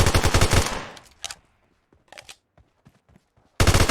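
Automatic gunfire in the video game PUBG Mobile: a loud, rapid burst at the start, a quieter stretch with a few faint shots, then another loud burst cutting in at the end.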